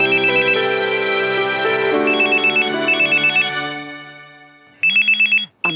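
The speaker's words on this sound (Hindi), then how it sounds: "अमी की स्कूल से फोन, जरूर अमी ने कुछ किया होगा।" A phone ringtone plays loudly in repeating bursts of bright electronic tones, fading briefly before ringing again near the end.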